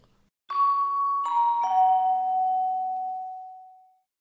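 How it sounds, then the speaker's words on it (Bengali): Three-chime doorbell sounding clearly on its own, each bright tone striking in turn and ringing out in a long fading decay over about three seconds, as a man reaches the front door of a house in an audiobook scene. "লোকটি সদর দরজায় পৌঁছে কলিং বেল বাজিয়েছে"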